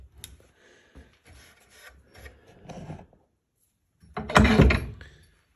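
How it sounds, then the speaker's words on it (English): Spokeshave drawn along an old hatchet handle clamped in a vise, a series of short dry rasping strokes up close, ending in one louder, longer scraping pass. "Give me enough room so I can spoke shave that"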